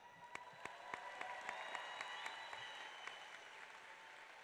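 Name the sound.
graduation audience applause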